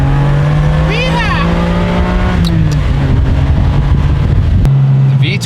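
A Ferrari V12 holds a smooth, tonal engine note through a turn, with its pitch sagging and then recovering, heard loudly from inside the car while people talk.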